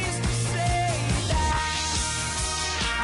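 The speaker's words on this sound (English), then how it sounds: "what you're just going to hear now is simply just that sweeping effect" Sweeping phaser effect used for radio imaging, applied over a full music mix, with a steady beat underneath and a swirling filtered sweep moving through the sound for about three seconds.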